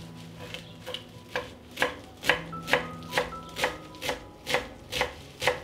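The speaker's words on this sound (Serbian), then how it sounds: "iseckat ću jednu vezu svežeg peršuna" A knife chops a bunch of fresh parsley on a cutting board, about a dozen crisp evenly spaced thuds in steady rhythm, close and clear, with faint music underneath.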